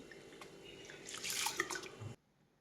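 Close splashing and swishing of about 750 grams of rice being rinsed in water, rising briefly then cutting off abruptly, with faint drips earlier.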